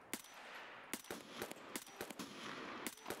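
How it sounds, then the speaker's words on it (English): Gunfire in Escape From Tarkov rings out as a string of sharp, loud reports at irregular intervals, some in quick bursts, set against a low background ambience. "You shot his head off."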